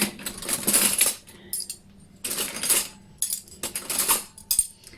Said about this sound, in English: Got a few spoons here.